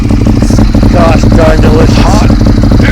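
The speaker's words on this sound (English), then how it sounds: "that's the exhaust" A Ducati 848 Evo Corse motorcycle idles nearby with a steady, throbbing low exhaust drone that runs continuously beneath someone speaking loudly over it.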